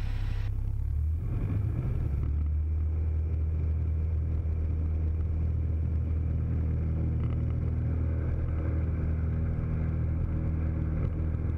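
The engine of a Cessna Skyhawk light airplane roars steadily during takeoff on runway 30, a loud continuous droning rumble heard from inside the cabin that rises briefly at the start, with no talking.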